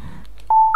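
A mobile phone in the horror game Calling: Kuroki Chakushin starts ringing on its own, sudden loud electronic tones sounding after a brief quiet, the pitch stepping up near the end.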